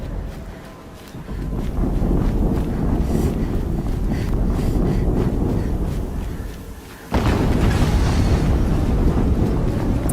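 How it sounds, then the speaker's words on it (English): A heavy rumbling roar builds and holds before a second abrupt explosion blast in the Horizon Zero Dawn video game, followed by sustained loud rumble. "Another explosion."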